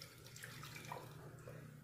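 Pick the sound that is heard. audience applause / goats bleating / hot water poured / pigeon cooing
hot water poured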